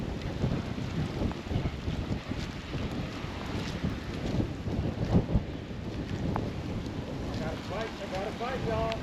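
Rain and gusting wind on the Sacramento River during a fishing trip, a continuous rough roar with buffeting wind against the microphone and low rumbles throughout, a voice faintly heard at times.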